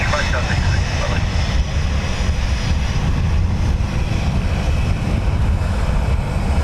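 A Turkish Airlines Airbus A350 jet takes off from runway 10 right at Dublin Airport, its engines a steady, loud, broad roar mixed with wind buffeting across the microphone.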